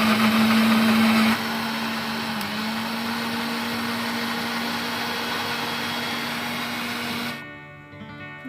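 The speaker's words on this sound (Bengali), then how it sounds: "মিক্সিং জারটা আটকে নিয়ে আমি এটা মিক্সারে বসাবো" A kitchen mixer grinder whirring as it blends grapes with water for a sherbet, a loud steady motor drone that shifts to a slightly lower pitch early on, runs evenly, then winds down to a stop.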